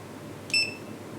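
A Sonoff smart switch gives one short, high electronic beep during Wi-Fi pairing, standing alone against a quiet background.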